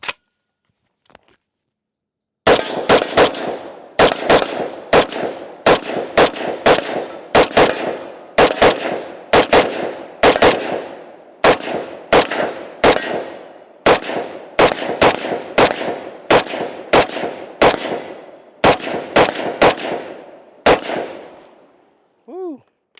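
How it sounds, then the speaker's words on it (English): A Zastava M92 rifle fitted with a muzzle brake fires about twenty loud, close shots in a quick, steady string. Each sharp blast is followed by a brief echo, and the string ends in quiet. "So let's go ahead and take some more shots with it,"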